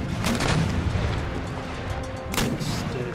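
Naval gunfire from ships exchanging crossfire in Empire: Total War, heavy booming shots and rumbling blasts rolling one after another, with a sharp loud burst near the end, no voices.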